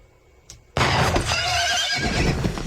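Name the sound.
horse neighing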